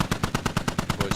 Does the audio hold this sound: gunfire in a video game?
yes